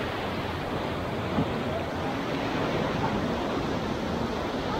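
Sea surf washing onto the shore at Hồ Cốc beach, a steady broadband wash of waves with a wind-like hiss, fairly close and continuous, with no talking.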